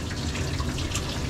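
Tap water runs steadily into a sink as hands are rinsed during a Cocker Spaniel grooming session, a continuous close splashing wash with no talking.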